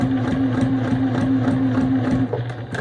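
A Juki TL-2010Q sewing machine stitches through leather with a steady, rapid mechanical hum and rhythmic needle clatter that runs continuously, then slows and stops near the end.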